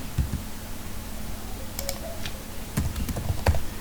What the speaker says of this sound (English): So I will type hello here.